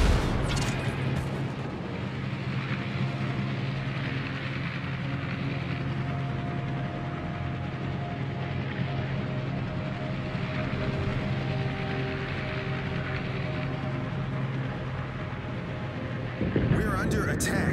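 Naval artillery fire and explosions in World of Warships, a continuous rumbling battle bed with low booms and a steady engine-like drone, a sharp burst at the start and another near the end.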